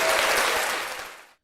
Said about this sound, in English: Round of applause for yourselves.